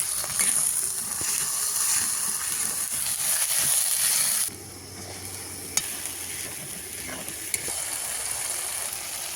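Spiced mutton masala being stirred and fried in a pan, with a steady close sizzle and scraping that drops suddenly to a quieter simmer halfway through, broken by a couple of sharp clicks.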